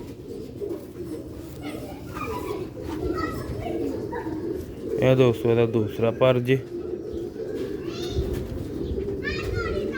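Sialkoti breeder pigeons coo in a loud, rhythmic burst of deep throaty calls. Softer bird sounds and children's voices come from the background, and someone talks over them.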